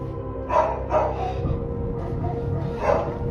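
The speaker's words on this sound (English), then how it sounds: "the family dogs start going nuts" Several family dogs barking at night indoors, sharp yelps and bow-wows in bursts, two quick barks then a pause before another, over a low background rumble.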